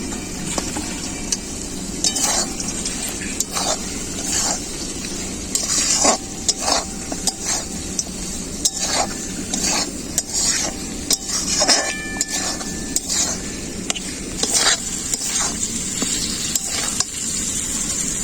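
Chicken pieces sizzle in spiced oil in a pan, a steady close frying hiss broken by repeated sharp scrapes and clacks of a spoon stirring against the metal, with no talking.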